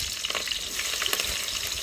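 Onions and green chillies frying in hot oil for a curry, a close steady sizzle with soft stirring scrapes and small pops, brief and unbroken, no talking.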